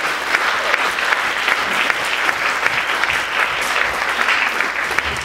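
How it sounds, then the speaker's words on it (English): Sustained applause from an audience at an open mic night hosted by the Brooklyn Psychedelic Society, a dense, steady wash of clapping hands lasting throughout at close range, with no speech over it. "get one more round of applause for all the open mic people"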